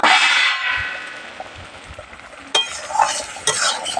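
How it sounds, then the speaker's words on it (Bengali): Butter paneer masala stirred in a pan, an initial burst of sizzling fading into quiet bubbling, then a few sharp utensil clanks and scrapes against the pan near the end, close by. "আবার একটু নাড়াচাড়া দিয়ে দিলাম"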